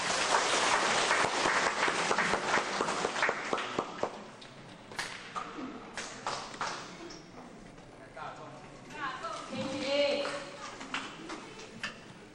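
An audience at a health lecture in a temple hall applauds to welcome the lecturer, a dense burst of clapping that thins into scattered claps after a few seconds, with a voice speaking over the tail end.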